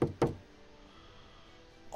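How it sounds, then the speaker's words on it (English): Knocking on a wooden door at Godalming Manor in the video game Dracula Origin: two quick, close knocks, then quiet, with another knock starting at the very end. "so I will knock on this door"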